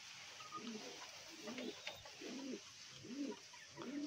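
Pigeons coo in a loft that holds Lahori-type and satin birds, with a soft, low, rhythmic run of about five cooing phrases at an even pace, faint and close.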